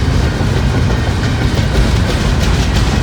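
A long freight train rolls steadily past close by on a quiet rail yard line, its loud, continuous rumble carrying a rhythmic clickety-clack of wheels on rail joints, alone without voices.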